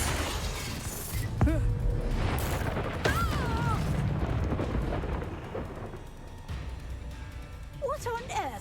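A Confringo blasting spell in Hogwarts Legacy bursts with deep rumbling booms and a low roaring tail amid combat noise, while voices shout over it.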